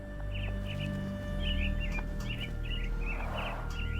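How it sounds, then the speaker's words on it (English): Caged myna birds in the video game Sherlock Holmes The Awakened chirp in short repeated bright calls over a low steady hum, fairly close and moderate in level, with no one speaking. "Minor birds, if I'm not mistaken."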